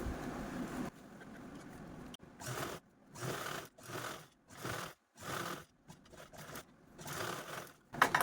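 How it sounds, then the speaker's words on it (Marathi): A sewing machine stitches a fabric strip along the lower edge of a blouse piece. The quiet run is followed by a series of short, rhythmic bursts separated by brief pauses. "आपण ही खालच्या साईडने पूर्ण ही पट्टी आहे ती स्टिच करून घेणार आहोत"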